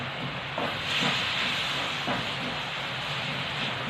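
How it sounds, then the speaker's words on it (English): Tomatoes, onions and garlic cooking in a pan for Filipino fish sauce, giving a steady, close sizzling hiss that runs throughout with slight swells and no talk. "So we're just waiting for the tomatoes, onions, and garlic to cook."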